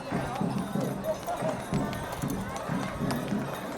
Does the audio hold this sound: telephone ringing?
no